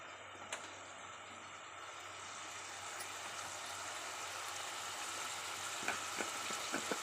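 Onions and chilies fry in a pan for a potato and brinjal curry, giving a faint, even sizzle that slowly builds, with a few small clicks and crackles near the end.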